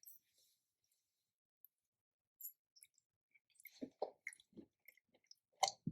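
Quiet, close-up chewing of a bite of garlic shrimp with cherry tomato, basil and creamy polenta, soft wet squishes and mouth clicks coming in irregular bursts, mostly toward the end.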